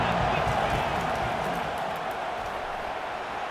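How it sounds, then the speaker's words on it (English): Football stadium crowd in Nebraska roaring steadily louder as fans rally behind the defense on third down, a dense continuous wall of cheering and noise throughout. "Decibels rising as the crowd gets behind this defense on 3rd down."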